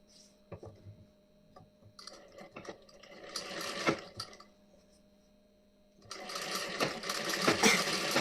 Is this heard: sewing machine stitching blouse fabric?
yes